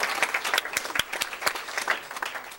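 A round of applause for elementary school students at a school board meeting, steady clapping from a room of people with a few sharper nearby claps standing out.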